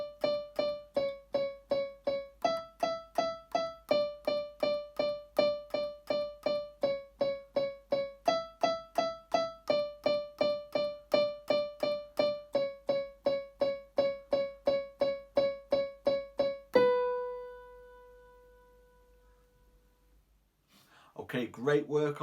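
Part 1 of a song played on keyboard, with steady repeated chords and a melody in a regular pulse, ending on a sustained note before a brief burst of talk.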